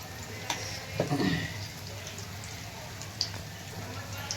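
Cumin and mustard seeds sizzle in hot oil, a steady soft crackle with a few sharper pops near the start, fairly faint and without talk.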